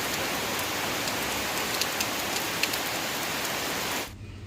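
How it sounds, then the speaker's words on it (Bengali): Steady rain pours in Sylhet early in the morning during flooding by the Surma river, a dense even hiss of drops on surfaces that continues without letup and then cuts off sharply near the end. "আমরা সিলেট অলরেডি বৃষ্টি শুরু হয়ে গেছে"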